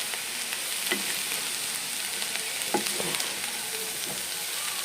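Egg palya with onion, coriander, green chili and a little salt sizzles steadily in a pan, with occasional scraping stir strokes cutting through the continuous frying hiss.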